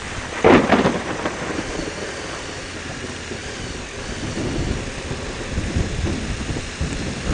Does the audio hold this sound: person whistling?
no